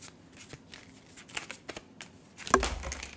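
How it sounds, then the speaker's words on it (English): Tarot cards get shuffled by hand, a series of soft papery riffles and slides that ends in a louder, fuller burst of card noise near the end, close up and without any talk. "Let me shuffle again."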